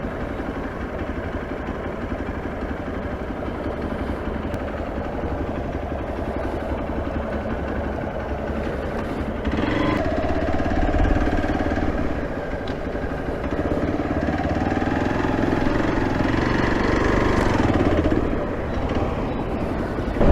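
A Hero Xpulse 200 BS6 motorcycle engine drones loud and steady while riding off-road through mud, with the pitch rising and falling as the throttle changes and no speech.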